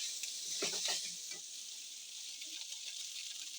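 Cooked rice being fried and stirred in a pan, giving a steady soft sizzle with a few scraping stirs at the start, close and fairly quiet, with no talking.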